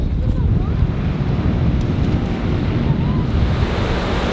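Ocean surf at Wells Beach rolls in a continuous loud wash, with wind buffeting the microphone throughout and no clear break between waves.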